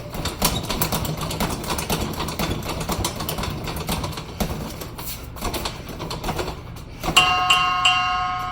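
A boxing round timer bell rings loud and sharp near the end, its ringing tones sustaining after steady punches thud on a BAS sparring bag outdoors in hot Las Vegas weather.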